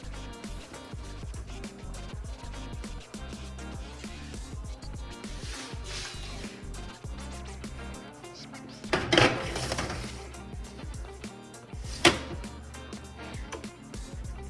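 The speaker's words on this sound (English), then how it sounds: "take a tray, fill it with some hot water that I boiled in advance, about a cup, and I'm going to put this on the lower level of my oven" A tray holding about a cup of hot water slides onto the lower rack of a home oven, with metallic clinks and clatter of pans and racks, including a couple of sharper knocks.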